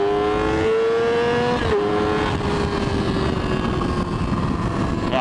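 A 2010 Yamaha R6 motorcycle engine revs high and loud, a steady sustained whine that rises, briefly shifts pitch and carries on under wind noise, recorded up close from the moving bike.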